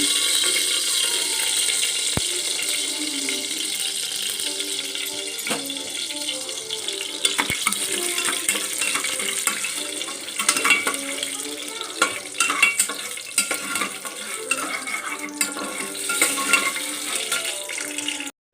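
Sugar cooks in melted ghee in a pan for rice pudding, giving a steady close sizzling hiss with scattered stirring scrapes and clinks throughout.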